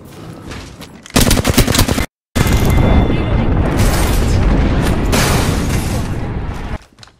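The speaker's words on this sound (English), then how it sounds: "Airstrike." Airstrike explosions and gunfire fill a video game battle, heavy booms and dense rapid shots roaring loud and continuous, broken by one brief silent gap, and fading at the end.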